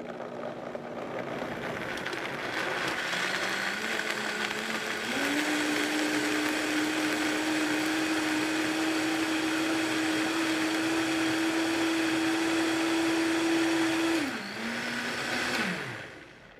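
A kitchen blender whirs through nut milk, starting at a steady hum, stepping up to a louder, higher whine for about ten seconds, then dropping back and winding down to a stop.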